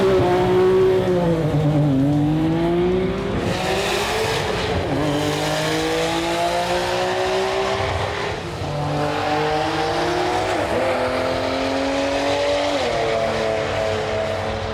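Nissan Skyline GT-R drag cars, including an R32 Skyline in the low mount turbocharger class, scream past at full throttle with rising and falling engine notes, gear changes and tyre noise, loud and continuous.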